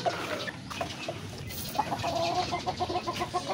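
Several chickens cluck continuously at close range during feeding, their calls overlapping in quick, irregular bursts over a rustling background.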